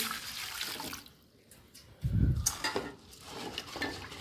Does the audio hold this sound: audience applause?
no